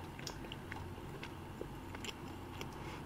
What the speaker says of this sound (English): You can probably hear me chewing on the radio.